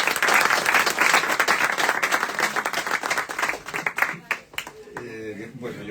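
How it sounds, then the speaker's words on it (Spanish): An audience at a bookshop tribute event applauds, dense clapping that is loud at first and then thins into scattered claps before fading into a voice. "y un aplauso para ellos."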